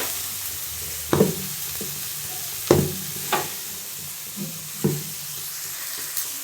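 Ingredients for a butter beans gravy are sautéed in a pan. A soft, steady sizzle runs under several separate scraping and knocking stirs spaced a second or so apart.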